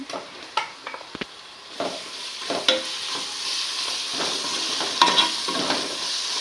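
Green paste for vegetable biryani sautés in a pan, a steady hissing sizzle broken by scraping stirs and occasional utensil clinks, close and fairly loud.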